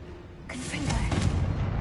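Bombarda spell in Hogwarts Legacy: a sudden blast bursts in about halfway through and leaves a rumbling, crackling tail under steady game background noise.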